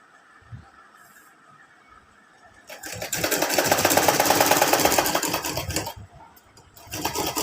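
Sewing machine stitching the side seam of a lehenga, whirring steadily and loudly for about three seconds after a quiet pause, then starting up again briefly near the end.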